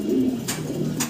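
A fancy pigeon gives a low, throaty coo, one short call that swells and trails off, close by and clear with faint clicks and no talking.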